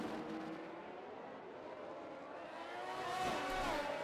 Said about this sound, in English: just hearing the engine being constantly on maximum revs